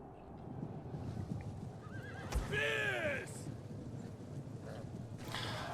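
A horse whinnies loudly with a rising and falling neigh, joined by a short second call, among the cavalry of horse archers in the medieval strategy game Medieval Kingdoms 1212 AD, over steady battle noise and hoof clatter.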